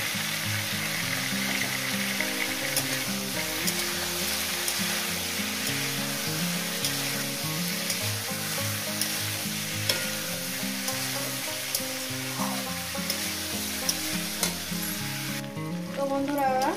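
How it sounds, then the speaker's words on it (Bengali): Cauliflower and potato pieces fry in oil in a pan, with a loud continuous sizzle and occasional stirring that stay steady for the whole stretch. "ফুলকপি আর আলুটাকে সুন্দর করে আমি ভেজে নিয়েছি।"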